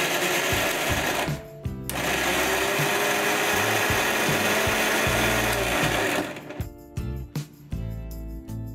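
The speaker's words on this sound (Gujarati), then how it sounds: "હવે આપણે મિક્સરમાં ગ્રાઇન્ડ કરી લઈશું" An electric mixer grinder whirs loudly as it grinds chopped onion and tomato in its jar, a continuous motor roar with a brief pause, then stop-start bursts as it winds down.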